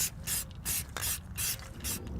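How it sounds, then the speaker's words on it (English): High-temperature spray paint hisses onto a bare-metal car exhaust in about six short, evenly spaced bursts, each a close, sharp spray followed by a brief gap. "we're gonna hit it with some high temperature spray paint"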